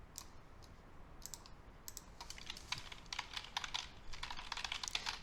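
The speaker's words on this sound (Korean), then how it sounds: "쓰지 말고 그냥 타이핑을 좀 칠게요" Rapid keyboard typing on a computer keyboard in a quiet room, irregular bursts of clicks growing busier and denser toward the end, fairly close, with no voices.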